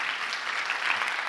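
Short burst of steady audience applause for keynote guests at a health care leadership conference, dense clapping throughout with no talk.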